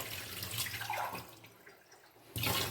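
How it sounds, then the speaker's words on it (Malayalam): Water poured from a cup into a vessel of soaked little millet, a close splashing gush that fades briefly and then surges again at the end. "ഇനി ഇതിലേക്ക് നമുക്ക് 1 ലിറ്ററോളം വെള്ളം ഒഴിക്കാം"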